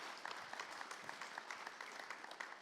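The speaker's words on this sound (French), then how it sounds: "Moi, je voudrais déjà les applaudir" An audience at a talk on industry and regional ecosystems applauds, a faint, even patter of many hands clapping that sounds distant and continues steadily.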